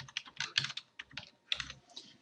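A computer keyboard clatters in quick bursts of keystrokes, close and crisp, with a short pause in the middle before the typing resumes.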